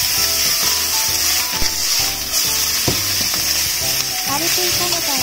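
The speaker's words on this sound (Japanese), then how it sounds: "油が温まったらベーコンを軽くで良いので炒めていきます。" Bacon sizzles steadily in hot salad oil in a pan, sautéed before spinach is added; a loud, continuous crackle with faint scraping of stirring.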